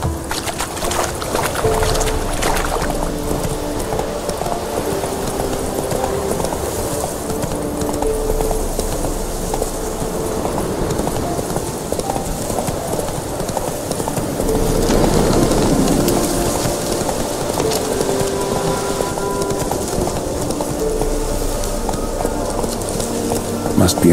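Geralt's horse Roach gallops steadily in The Witcher 3, a close rhythmic clip-clop of hooves running under ambient wilderness sound with occasional birds.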